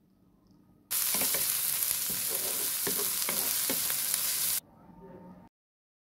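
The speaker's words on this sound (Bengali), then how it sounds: "এখন পেঁয়াজ এবং কাঁচামরিচগুলোকে হালকাভাবে ভেজে নিব।" Chopped onions, garlic and green chillies land in hot oil in a pan, setting off a sudden loud, even sizzle that holds steady for several seconds before cutting off, with a few faint stirring clinks and no voices.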